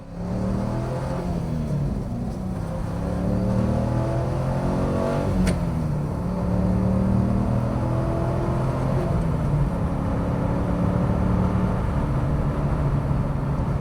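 A 2002 Chevrolet Camaro SS 35th Anniversary with an LS1 V8 and six-speed manual runs steadily, a low continuous engine drone with shifting harmonic tones suggesting gentle speed changes while driving, with no talk.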